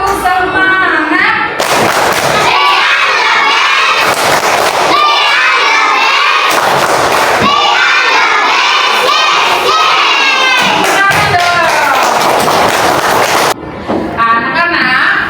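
A group of schoolchildren loudly shouting a rhythmic tepuk semangat chant together with clapping and thumps, bursts of energetic voices in close, cheering waves with brief pauses between phrases.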